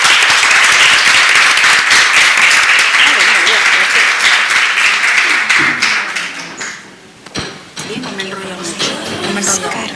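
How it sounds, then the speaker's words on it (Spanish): An audience claps loudly at the end of a talk on good treatment of the elderly, dense applause that thins out and fades near the end, with a few scattered claps and voices following. "Un aplauso por ustedes."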